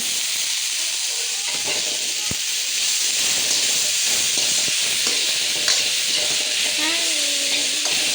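Spices, onion, coriander and mint fry loudly in a pan, a steady hissing sizzle with occasional stirring scrapes and clinks, close and continuous.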